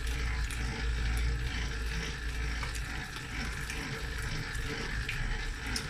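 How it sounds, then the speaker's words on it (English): A spiral dough kneading machine churns pizza dough at speed level 2 with a steady low rumble and a watery, sloshing texture, running continuously at a constant pace. "Our spiral kneading machine is on speed level 2"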